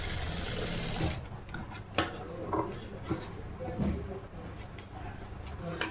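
A sewing machine stitches a blouse seam during a tailoring lesson, its steady low running hum continuing close by with a few small clicks of handling over the top.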